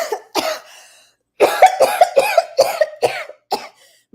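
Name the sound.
coughing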